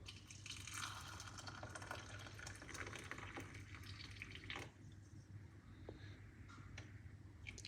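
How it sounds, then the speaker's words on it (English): Hot water pours into a cup over garlic cloves, a soft filling splash and trickle for several seconds that thins into faint drips. "what I'm gonna do is pour some hot water"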